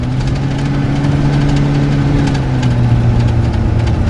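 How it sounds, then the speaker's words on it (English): A 1978 GMC Palm Beach motorhome engine labors steadily up Spring Mountain, Nevada, at low speed, its drone rising and sagging in a slow cycling pattern as it loses power on the hill; no talk. "We're going 30 miles per hour and the engine's sort of cycling."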